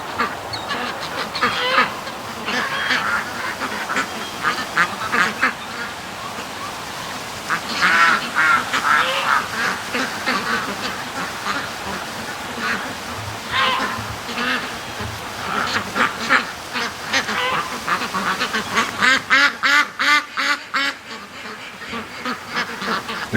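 Domestic ducks being raised outdoors quack repeatedly in noisy, overlapping bursts, fairly close and loud, building to a rapid chattering chorus near the end with little talk.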